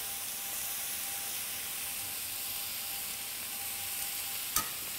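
Meat juices sizzle on a hot griddle plate during deglazing, a steady soft hiss and crackle close by, with a single sharp tap near the end.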